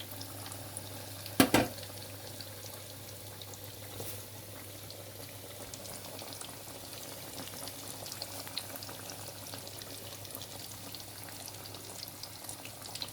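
A stuffed item filled with prawn and chicken mince fries gently in oil on medium heat, giving a faint, steady bubbling sizzle with a brief louder clatter near the start and no speech.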